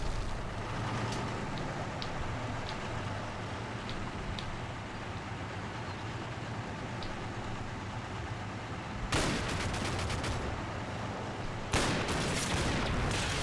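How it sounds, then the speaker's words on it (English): Gunfire in Combat Mission: Battle for Normandy, a World War II tactics game set in a night battle near Amiens on the Somme, where a steady rumble of distant battle breaks into two sharp, loud bursts near the end. "Who are you shooting at?"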